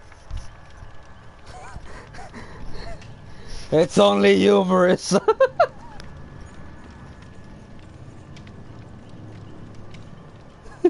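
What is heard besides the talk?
horse hooves clip-clopping outside, from video game Dead by Sunrise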